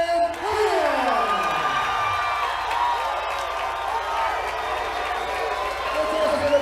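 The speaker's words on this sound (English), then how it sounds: "Let's also give a big round of applause to Ryan Diaz." A King of the Cage fight crowd cheers and applauds after a bout decision, a loud, sustained roar of clapping and whoops filling the arena.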